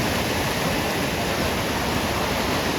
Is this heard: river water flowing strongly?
yes